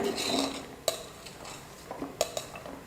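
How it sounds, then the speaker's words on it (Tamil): Spoon clinks and scrapes against a bowl as chopped onion and other ingredients are stirred together, with a few sharp taps spaced out over a soft background hiss. "இப்போ இது எல்லாத்தையும் சேர்த்து நல்லா மிக்ஸ் பண்ணிக்கிறேன்"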